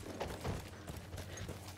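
Horse hooves clip-clopping in the World War I video game Battlefield 1, a soft, muffled rhythmic trot heard fairly faintly over a low ambient background.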